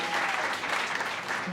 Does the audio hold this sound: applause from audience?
yes